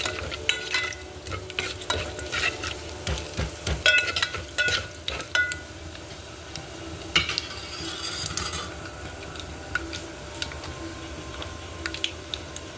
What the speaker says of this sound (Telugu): ఎల్లిపాయ ఎగుతుంటే స్మెల్ వాసన బాగా వస్తుంది